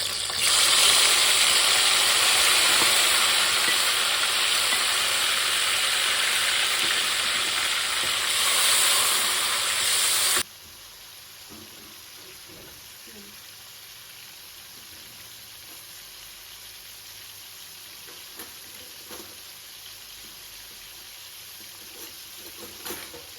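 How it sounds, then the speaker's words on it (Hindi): Two medium chopped tomatoes dropped into a frying pan for achari daal, a loud bright sizzle that holds for about ten seconds and then cuts abruptly to a quiet background with faint occasional clicks. "तो ये मैंने 2 टमाटर काटे थे मीडियम साइज़ के, जो मैं इसमें डाल लूँगी।"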